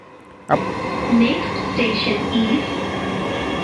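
A Dhaka metro rail train runs with a steady, close rumble and hum after a sharp onset, with voices faintly underneath.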